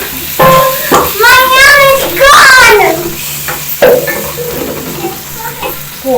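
Beef hits a hot pot for Kenyan pilau and sizzles loudly, a broad hiss running beneath people talking close by.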